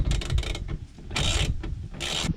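A ratchet clicks in short bursts while suspension bolts are tightened on a Mini, with close metallic ratcheting and brief pauses between strokes.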